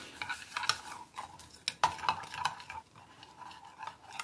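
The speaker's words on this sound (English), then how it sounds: "I'm just going to stir that around to blend it up." Ranch seasoning is stirred into melted butter, giving soft scraping and light clinks of a utensil against the bowl, quiet and close, with a faint sizzle-like hiss beneath.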